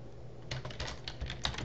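Quick, uneven keystrokes on a computer keyboard tap out a short burst of soft clicks at close range in a quiet room.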